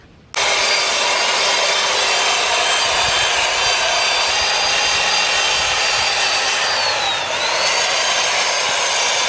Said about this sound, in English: We just need to get that off there with a wire brush and get it down to bare metal